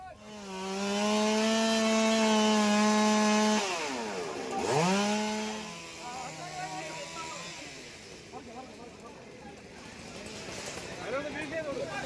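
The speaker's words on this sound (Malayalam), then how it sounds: "അഗ്നിരക്ഷാ സേന എത്തി മരം മുറിച്ചു മാറ്റി" A chainsaw cuts a tree that fell across a road in monsoon rain in Kerala, with rescue crews at work. The engine holds a steady high whine, then drops and revs again before fading into a rougher, quieter cut.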